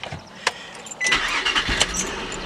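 A 2003 Nissan Maxima SE with a six-speed cranks briefly and catches, then settles into a steady, smooth idle close by, with a faint belt squeak riding on top.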